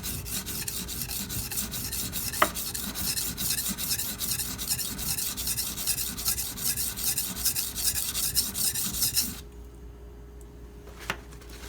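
A Karaku AS gyuto 210mm kitchen knife is ground against a sharpening stone in steady, rapid back-and-forth rasping strokes, close and even, for about nine seconds before stopping into near quiet with a couple of light taps.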